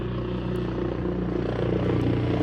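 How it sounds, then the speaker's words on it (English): Firefighting helicopter looping around over a wildfire in Wears Valley, a continuous droning rotor and engine rumble with steady low throbbing, heard from a distance without any voices. "So the helicopter is going to loop around."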